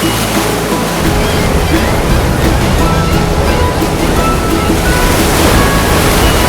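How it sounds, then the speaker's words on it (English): Ocean waves surge and wash around a ship at sea in a loud, steady roar mixed with wind rushing past the microphone, and a low hum fades out in the first second. "As the ship rocked with the waves"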